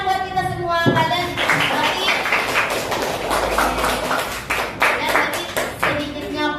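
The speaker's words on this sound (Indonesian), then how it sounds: "Tepuk tangan buat kita semua." Classroom clapping from students in a school lesson, loud and close, with uneven bursts and some patterned rhythmic claps, and faint voices mixed in.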